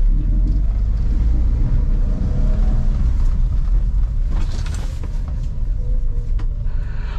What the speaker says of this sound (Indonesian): Mobil benar-benar tergelincir.